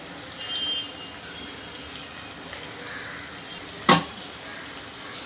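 Two finely chopped onions drop into a hot pan for dhaba-style chole, and the steady background sizzle of frying bursts into sharp, loud crackles twice near the end.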